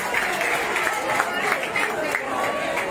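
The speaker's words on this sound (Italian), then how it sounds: "Fatevi un applauso" Crowd at an outdoor political rally in Agropoli, Salerno, clapping steadily throughout, a dense spread of hand claps with some cheering voices mixed in.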